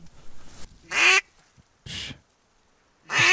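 Ducks call on a pond during a duck hunt, three loud bursts of quacking and honking separated by quiet gaps, with a faint murmur of fowl at the start.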